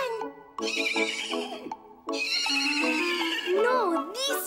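A horse whinnies with a high, wavering call amid lively voices and music-like tones, the neigh rising and falling near the end.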